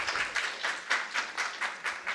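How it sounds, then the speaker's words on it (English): Audience applause at a university research festival's postgraduate conference, a steady run of clapping with rhythmic swells, moderately distant and without talk. "A round of applause for Shena again."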